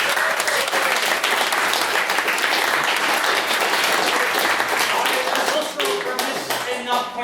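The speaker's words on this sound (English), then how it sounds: "Can we get another round of applause?" Sustained applause from a debating-society audience after a maiden speech, dense steady clapping filling the room, loud and continuous before easing slightly near the end.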